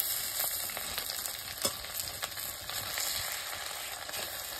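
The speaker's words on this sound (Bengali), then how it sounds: "আদা রসুনটা দিয়ে ভালোভাবে লাল লাল করে মিশতে হবে" Ginger and garlic paste, ground by hand on a stone, fries in a pan in a village kitchen, giving a steady close sizzle broken by occasional scraping stirs, with no one talking.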